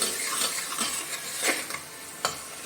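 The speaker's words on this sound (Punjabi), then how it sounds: "ਹੁਣ ਅਸੀਂ ਇਹਨੂੰ 2 ਮਿੰਟ ਹੋਰ ਭੁੰਨਾਂਗੇ" Spice masala with garam masala, dried coriander and black pepper is roasted with bottle gourd in a pan, giving a close, continuous sizzle broken by sharp spatula scrapes and stirring strokes, with no voices.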